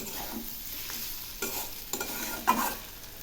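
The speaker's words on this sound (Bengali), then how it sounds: "আবারও একটু নেড়ে দিচ্ছি।" Spiced paste and potatoes get stirred in a frying pan, giving a soft sizzle with a few scraping strokes of a spoon, close and alone with no talk.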